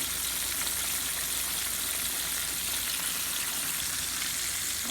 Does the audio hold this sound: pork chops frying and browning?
yes